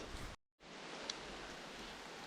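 Rain falls outdoors by a small lake, a steady close hiss of drops that cuts out briefly and then resumes at an even level.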